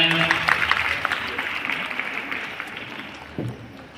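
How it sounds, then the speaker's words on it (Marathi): Applause from the audience at a women's college annual gathering and prize-giving ceremony, a steady wash of clapping that fades gradually over four seconds, with a voice speaking faintly underneath. "जोरदार टाळ्या."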